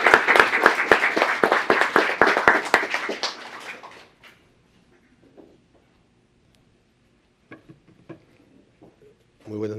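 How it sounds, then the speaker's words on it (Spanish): Brief audience applause welcoming a speaker to the podium at an arbitration tribute panel, sharp claps fading out after a few seconds into near silence, followed by small handling sounds and a voice beginning to speak. "Lo recibimos con un fuerte aplauso."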